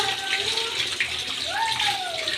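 Five kilos of sliced potato chips being rinsed in a tub of water at home, close sloshing and trickling with a couple of faint squeaky tones over a steady watery wash.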